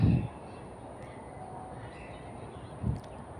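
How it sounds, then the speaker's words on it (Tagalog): Two short bird caws in a park, one at the start and one near the end, over a faint steady outdoor hum. "Ang daming mga huni ng ibon na nakakawala ng stress, nakaka-relax."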